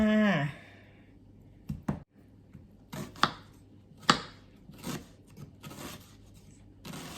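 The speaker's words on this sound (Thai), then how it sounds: "หั่นหอมซอยหอมก่อนนะคะ" A knife slices red shallots on a cutting board: close, crisp, irregular cuts come singly and in small clusters, with quiet pauses between them.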